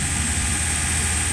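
A car engine runs steadily and loudly at raised revs, with a constant throbbing drone and a high whine, close up and with no talk over it.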